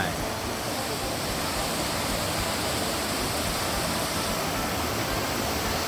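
Mo Paeng waterfall in Pai, Thailand, pours in a loud, constant broadband rush of water. The roar stays even and unbroken from start to end.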